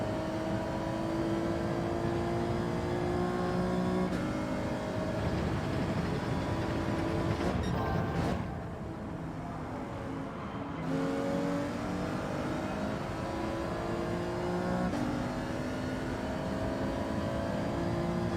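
A Subaru race car's engine in Gran Turismo 7 screams through repeated rising revs under acceleration, climbing tone through each gear with a brief dip during a shift, loud and continuous throughout.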